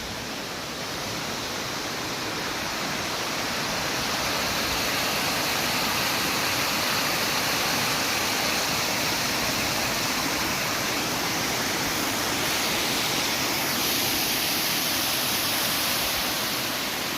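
Clear stream water at Ternate, Cavite rushing and splashing steadily, a loud, broad, continuous flow close by with no speech.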